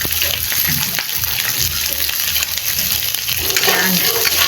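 Ingredients for pancit sizzle in a hot pan with a steady, bright, hissing sauté noise that stays close and loud throughout, with a voice speaking over it now and then.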